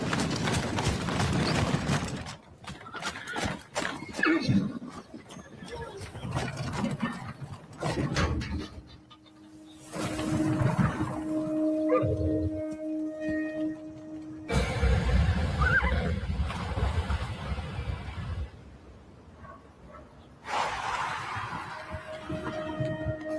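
Horse hooves clip-clopping and loud whinnies in a Super Bowl commercial, with repeated neighs over a busy backdrop of steps and movement, sections cutting abruptly between scenes.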